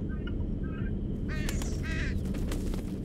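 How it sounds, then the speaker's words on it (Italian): A pigeon in the video game Condemned: Criminal Origins gives a couple of short, rasping caws over a constant low background hum, moderately close and fairly brief. "Piccione."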